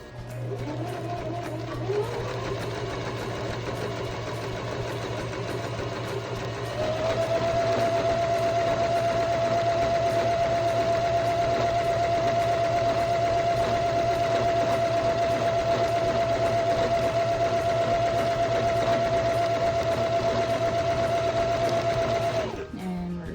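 A sewing machine running gathering stitches along a sundress skirt, a steady mechanical whir that rises in pitch and speed after a few seconds and holds for a long stretch before stopping abruptly.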